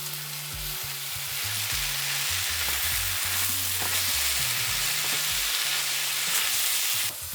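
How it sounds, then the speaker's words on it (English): Red cabbage sautéing in a pan at home, a steady close sizzle with stirring clatter running throughout, loud and continuous with no talk. "Also got the red cabbage now. I'm gonna go in and saute that all together."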